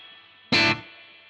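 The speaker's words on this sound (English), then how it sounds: "Now the reverb that comes with this preset is a spring." A bright spring reverb on a Boss WAZA Tube Amp Expander colors a short, loud guitar stab that cuts off abruptly after a quarter second, leaving a faint hum behind.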